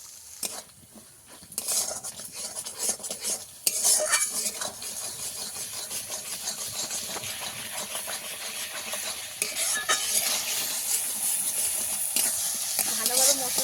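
Spices for Bengali potol posto are stirred and fried in oil in a pan, a steady close sizzle with repeated scraping and clinks of a utensil against the pan throughout.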